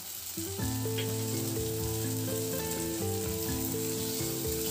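Ginger garlic paste frying with softened onions in a pan, a steady low sizzle running beneath prominent melodic background music.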